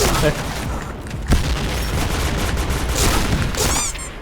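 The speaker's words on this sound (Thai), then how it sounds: "ปาระเบิด" Grenade explosion in the shooter game Point Blank, a booming blast within busy gunfire and battle noise, with voices partly heard beneath the din.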